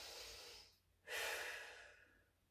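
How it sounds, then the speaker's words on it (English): A deep breath drawn in during a gentle warm-up stretch, a long soft airy inhale close to the mic that swells after a brief pause, preceded by a quieter exhale. "Take a big breath."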